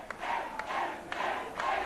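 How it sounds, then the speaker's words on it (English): A wrestling arena crowd at a 1978–1982 St. Louis event yells and chants "Dewey" in rhythmic bursts, a loud, dense roar of many voices swelling and falling about every half second. "The crowd starting to yell, Dewey"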